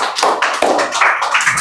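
A classroom group at a spoken English class claps hands in a short, brisk burst of several uneven claps, close and fairly loud.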